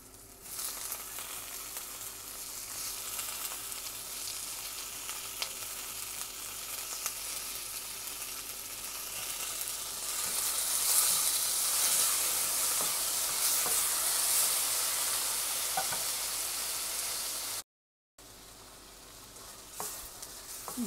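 Tomato and onion leeks sauté in a pan for a Filipino shrimp-and-tomato dish, a steady close sizzle and hiss with faint stirring scrapes, swelling brighter midway, with no talking.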